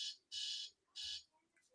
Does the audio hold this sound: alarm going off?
yes